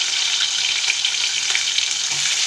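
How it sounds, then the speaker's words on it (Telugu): Onions sizzling in hot oil with curry leaves for a vada pulusu curry, a loud continuous crackling hiss heard up close without voices. "కరివేపాకు వేసుకున్నాక ఇదిగోండి ఉల్లిపాయలు వేసుకోవాలి"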